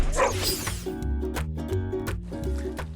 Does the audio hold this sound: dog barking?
yes